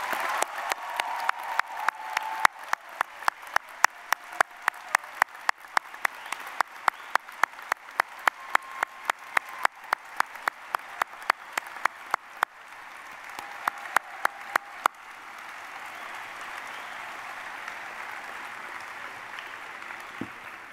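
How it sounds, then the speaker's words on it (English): At a UCF spring commencement ceremony, graduates applaud their guests with loud, spaced individual claps ringing out over a softer crowd clapping bed, the sharp claps thinning out near the end while the wash of applause carries on alone. "graduates, please show your appreciation to them with resounding"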